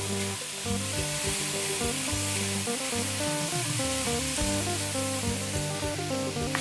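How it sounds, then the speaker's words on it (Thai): Rice stir-fried in a pan with fermented pork (naem) and egg, a continuous bright sizzle with scraping stirs, while steady music plays in the background. "ผัดให้เข้ากันนะคะ"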